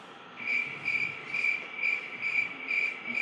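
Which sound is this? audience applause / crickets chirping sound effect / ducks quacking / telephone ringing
crickets chirping sound effect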